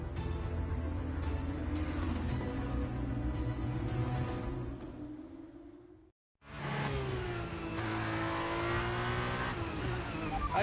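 An F1 23 race car in the video game pulls away on brand new tyres, its engine revving hard with a rising whine as it climbs through the gears. The sound briefly cuts to silence, then the high-pitched engine note picks up again.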